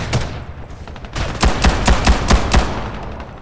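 Rapid bursts of automatic gunfire from the video game Ghost in the Shell: First Assault ring out loud and close, several sharp shots stacked in quick succession with no talk over them.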